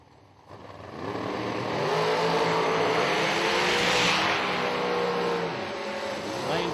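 Bradford Miller dragster racing Ron Lane at a drag strip: a loud engine roar builds after a quiet start and holds steady for several seconds, with a rising whine and a slight easing near the end.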